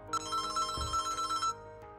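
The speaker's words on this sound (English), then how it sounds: "Your phone is ringing." A telephone ringtone plays alone, a bright electronic ring with several quick pulsing bursts over about a second and a half, then stops.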